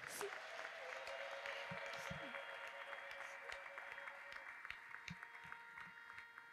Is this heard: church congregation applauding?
yes